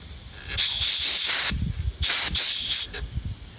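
A bicycle tire's inner tube, poked with a screw, releases air in sharp hissing bursts, two long ones and a shorter one, with mechanical handling noise between them, close and fairly loud.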